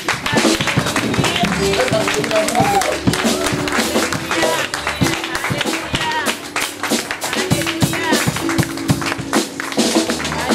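A church congregation claps energetically during a service welcoming a visiting pastor from Nigeria, producing dense, loud, continuous rhythmic clapping throughout with a steady beat and music underneath.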